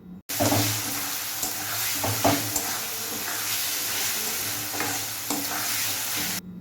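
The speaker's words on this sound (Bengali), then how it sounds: "এবার ভালোভাবে মশলাটাকে কষিয়ে নেব।" Spice paste with onion and garlic stir-fried in a pan, an even hissing sizzle broken by repeated scraping strokes of a spatula.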